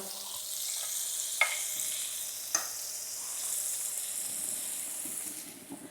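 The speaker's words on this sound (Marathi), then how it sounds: "असं लो टू मिडियम फ्लेमवरती भाजलात ना की ब्रेड छान कुरकुरीत होतो" Bread slices toast in butter on a pan over low to medium flame for a Mumbai-style masala toast sandwich, a soft continuous sizzle with two brief clinks of a spoon or spatula, no talking.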